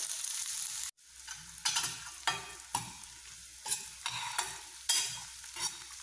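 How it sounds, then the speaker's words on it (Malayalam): Chopped onion and green chilli sautéing in coconut oil: loud, close stirring strokes come in a fairly regular rhythm, each a crisp scrape over a continuous sizzle, after a brief dropout near the start. "ഇനി നമുക്ക് പച്ചമുളകും അരിഞ്ഞ് വെച്ചിരിക്കുന്ന സവാളയും ഇട്ട് കൊടുത്ത് നന്നായിട്ടൊന്ന് വഴറ്റിയെടുക്കാം."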